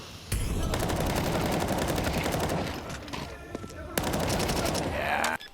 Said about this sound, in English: What a wall bang, huh?